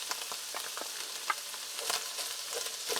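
Chopped onion sautés in a pan alongside browned ground meat, a quiet steady sizzle with light crackling and a soft clink or two, no talking.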